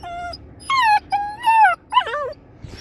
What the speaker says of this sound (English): He's not very happy about being taken away from his mother, so he's whining